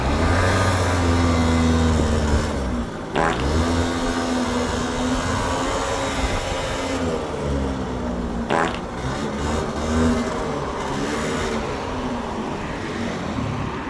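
A motorbike fitted with a bolt-on exhaust and running lean drones loudly on a street test ride, its engine note rising and falling steadily for over ten seconds, with two sharp breaks where the revs drop and pick back up.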